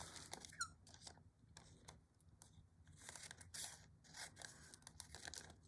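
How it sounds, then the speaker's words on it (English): Scissors fussy cutting a small motif from fabric, a series of close crisp snips and squeaky blade slides in an irregular rhythm, quiet and alone. "So I'm just going to fussy cut this guy out"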